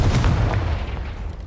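A loud Confringo blast spell cast in the video game Hogwarts Legacy, a heavy booming burst at the start that rumbles and fades over a second or so.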